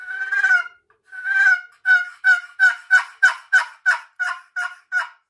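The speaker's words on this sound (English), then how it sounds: "You're rubbing two surfaces together and to create that turkey cadence" A turkey friction call makes a series of turkey-like yelps, starting with two drawn-out notes and then about ten short, evenly spaced clucks in a steady cadence, clear and close.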